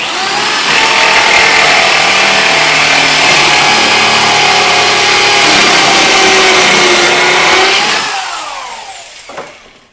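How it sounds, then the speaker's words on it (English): A loud corded power drill running a plug cutter whines steadily for several seconds, then winds down and stops, with a brief clunk near the end. "so I've got the corded drill on"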